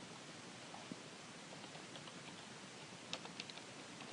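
Quiet keystrokes on a computer keyboard, a few faint irregular clicks over steady hiss, with a small cluster of taps near the end and no speech.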